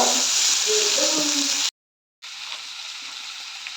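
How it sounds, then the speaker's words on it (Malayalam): Kerala-style pepper chicken is stirred and sautéed in a pan, giving a steady, close sizzle with a faint scrape of stirring. A brief dead-silent gap breaks the sound before the frying hiss resumes, slightly quieter. "എന്നിട്ട് നമ്മൾ ഒന്ന് ഇളക്കി കൊടുക്കാം ഇത് അത്യാവശ്യം നമ്മൾ വഴറ്റണം"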